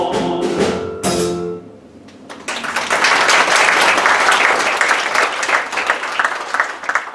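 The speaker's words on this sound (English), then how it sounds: "Have another round of applause for these brave soldiers, ladies and gentlemen." A sung wartime stage number ends with a final chord, then after a short pause the audience for the performers breaks into full, sustained applause that continues steadily to the end.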